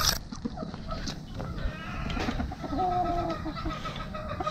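Chickens in a small backyard coop cluck and call in overlapping bursts, with a rooster-like crow and other birds chirping nearby over a constant low background.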